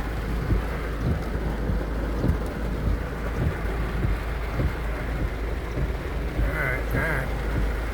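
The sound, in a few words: rain during a thunderstorm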